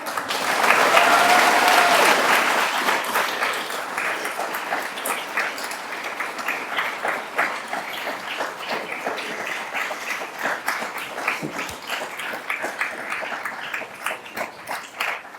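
A school audience bursts into loud applause and cheering, dense clapping that gradually thins into scattered claps, no speech over it.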